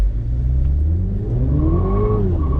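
A Mini Cooper S JCW pulls away hard with wheel spin, its engine rumbling low then rising in pitch as it revs up through the gear, loud and close throughout.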